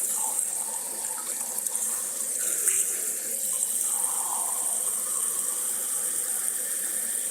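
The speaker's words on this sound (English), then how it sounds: "Rinse out my coffee cup from the live stream this morning." Tap water runs into a kitchen sink while a coffee cup is rinsed, a soft steady stream with faint splashes and gurgles under the flow, fairly quiet and close.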